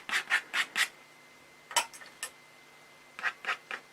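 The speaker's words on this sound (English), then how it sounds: "Yes, it's a scratchy sound" Pen nib scratching across paper during a pen and ink drawing, heard as short close rasping strokes in quick bursts of four, a pause, then a few scattered strokes and another burst of three, with a single brief spoken word.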